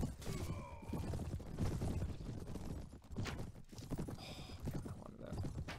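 Horse hooves from a Game of Thrones mod of a medieval video game: quick, rhythmic clip-clop at moderate distance, with scattered clatter and game ambience around it.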